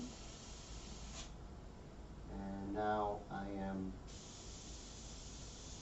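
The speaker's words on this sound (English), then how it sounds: "And I'm going to test my spray." An airbrush sprays paint during a fashion portrait session, a steady soft hiss that pauses briefly while someone speaks.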